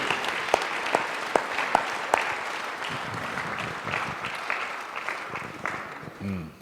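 A church congregation applauds in a service, a steady patter of many hands clapping that gradually fades, with a brief voice near the end.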